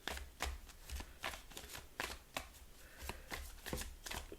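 Tarot cards being shuffled by hand, a run of quick riffling bursts repeating in an uneven rhythm, close and fairly quiet with no talking.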